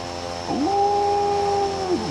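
A TBM 930 single-engine turboprop in Microsoft Flight Simulator 2024 whines as its tone climbs sharply, holds a steady, tonal drone, then sinks away near the end over a constant background hum.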